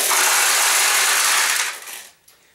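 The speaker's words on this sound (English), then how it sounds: "We'll go ahead and just add a few extra balls to your recycler tray." Pachinko balls pour into the recycler tray of a Nishijin pachinko machine as a dense, close metallic rattle and clatter, steady for about a second and a half and then thinning out to a few scattered clicks.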